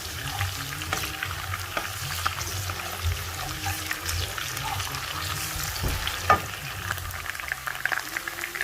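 Garlic and ginger paste fries in a pan while being stirred, a soft, steady sizzle with occasional scraping taps of the utensil.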